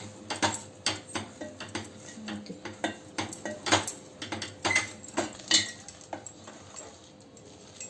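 A spoon scrapes and knocks against a metal pot in a steady irregular rhythm, stirring a thick sangati mash up close.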